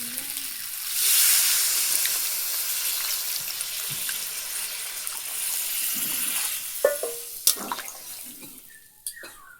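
Water goes into a pan of dry-fried goat mutton masala with potatoes, raising a loud hissing sizzle that eases into bubbling, with a few sharp clinks and stirring knocks near the end.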